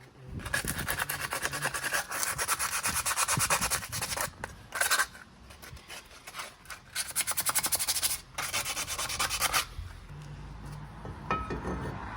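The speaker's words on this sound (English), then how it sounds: "grabbed a little bit of 80 grit sandpaper just to sand down that hub to make sure it was back down to a decent metal surface" 80 grit sandpaper rubs hard against a metal brake hub on a 30-year-old car. Close, gritty back-and-forth strokes come in long bursts with short pauses between them.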